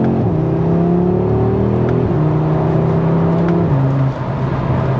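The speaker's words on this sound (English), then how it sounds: "let's take it down to say second gear, and it just flies through the gear shifts." Audi RS3 with a DCT gearbox driving hard, its engine droning loudly and steadily inside the car while the pitch drops sharply at each of a few quick gear shifts.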